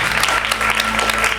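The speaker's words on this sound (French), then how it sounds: "On les applaudit." Dense, steady applause from a graduation ceremony audience at a kindergarten, filling the room evenly and loudly for the whole stretch, with no talk rising above it.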